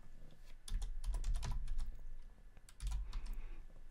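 Bursts of rapid typing on a computer keyboard, close and fairly quiet, in two runs of clustered key clicks separated by a short pause.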